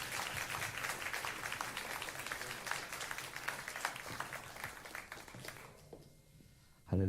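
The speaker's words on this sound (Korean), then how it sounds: "박수로 한번 맞이하시고요." A church congregation claps in sustained, dense applause welcoming the pastor, with faint crowd murmur underneath, fading toward the end before a louder sound at the close.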